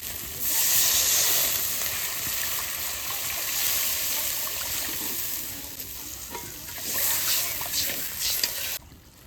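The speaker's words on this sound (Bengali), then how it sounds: "এবার আমি জল দিয়ে দেবো।" Water poured into a pan of sizzling fried masala for a koi fish curry, a loud steady hiss and bubbling rush that swells and fades, close by.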